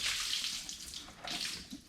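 Water splashing and spilling out of a drained VW engine part in a garage, a steady broadband splatter running about two seconds with slight surges and no voices.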